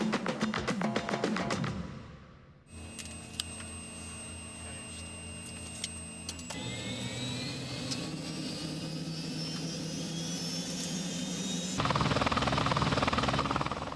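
A police helicopter's steady engine roar and rotor whine, loud and continuous, with shifting tones as the aircraft flies.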